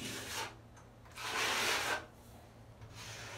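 Scraping strokes of a drywall knife spreading joint compound across a ceiling patch, a few rasping passes with pauses between, one longer stroke in the middle, up close.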